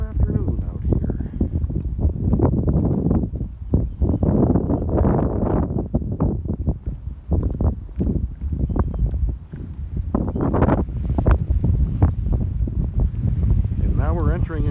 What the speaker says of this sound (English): now we're entering into a real wind vortex